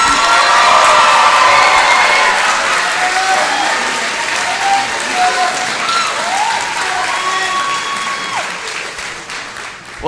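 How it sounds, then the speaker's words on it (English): An audience bursts into loud, sustained applause with cheers and whoops for choral award recipients at a Broadway-themed concert night, the clapping dense and close throughout, gradually easing. "Give a round of applause for our Choral Award of Merit recipients."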